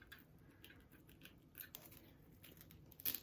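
A bread knife sawing through small styrofoam pieces for a glass block decoration craft, giving a soft, close, scratchy rasp in uneven strokes that ends in a sharper crunch.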